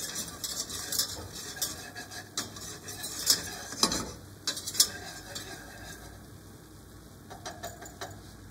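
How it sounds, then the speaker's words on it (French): A butter and flour roux for a chicken blanquette cooks in a pan while a utensil stirs it, giving soft, irregular scrapes and light clinks over a quiet low hum. No one speaks. "Je laisse cuire un petit peu le beurre et la farine."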